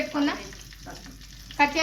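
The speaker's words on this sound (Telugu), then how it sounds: "పెట్టుకున్న ఉల్లిపాయలు వేసుకుందామండి. ఇవి కొంచెం ఫ్రై అవ్వాలి." Chopped onions sizzling in a hot pan, a brief crackling fry with a stir and a sharp clink near the end.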